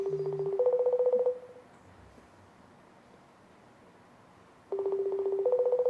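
Telephone tones sound while a phone call is being placed: a clear electronic tone pattern plays for about a second, then near silence, then the same tones return, loud and close with no voices.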